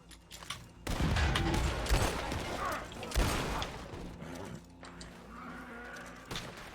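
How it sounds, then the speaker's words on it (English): Shotgun blasts ring out in the video game Red Dead Online, with two loud, heavy bursts of gunfire and rumbling echoes, followed by quieter scattered shots. "Shotgun."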